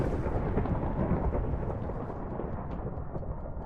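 Steady heavy rain with a deep rumbling wash in a Minecraft GTNH modpack world, loud and continuous, easing slightly toward the end.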